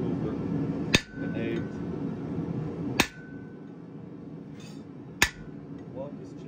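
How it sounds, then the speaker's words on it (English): A hammer strikes a chisel to mark metal during blacksmith forging. Three sharp, ringing metallic blows land a couple of seconds apart over a steady background rumble, each one close and distinct. "Walk this chisel along."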